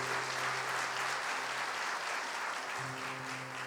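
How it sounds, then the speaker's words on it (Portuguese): A church congregation in a large temple gives a pastor couple dense, steady applause that fills the whole stretch, with a low sustained hum underneath. "Agora vamos aplaudir esse casal de pastores."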